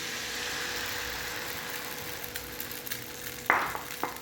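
Batter made from leftover chapati frying in oil in a pan over medium flame, a soft, steady sizzle with light hiss and faint clatter, plus a couple of sharper clinks near the end.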